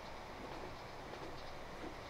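A train rolls over bad, rough tracks in Transport Fever 2, a steady rumbling wagon roar with faint clickety-clack at a constant level throughout.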